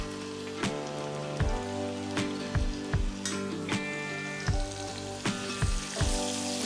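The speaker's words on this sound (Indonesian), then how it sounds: "aku akan menumis bahan-bahan yang sudah aku haluskan tadi, dan di sini aku menggunakan minyak bekas menggoreng ayam" Ground chili paste sautés in used chicken-frying oil, a continuous close sizzle and crackle broken by regular scraping stirs of a utensil against the pan.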